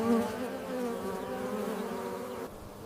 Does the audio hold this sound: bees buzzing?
yes